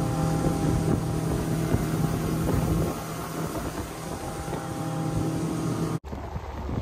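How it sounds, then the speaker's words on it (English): Wind buffets the microphone over the steady hum of a fishing boat's engine in northern Michigan, and the sound abruptly cuts out and drops off near the end. "so it's a little windy."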